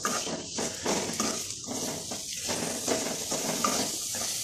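Egg masala curry stirred in a pan on a Kerala home stove: a steady sizzle with the scrape and clink of a spoon against the pan, close and continuous with no talk.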